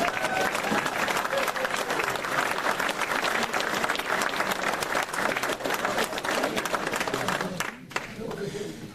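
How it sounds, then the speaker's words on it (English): A room of people applauds Mary at a talk on the history of skiing in Chequamegon Bay, sustained crowd clapping across the whole stretch, briefly dipping near the end, with a voice or two mixed in. "I think Mary deserves a round of applause"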